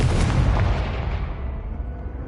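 A single heavy blast from the Confringo explosion spell in the video game Hogwarts Legacy, a loud booming burst up front that rumbles and fades away over about two seconds.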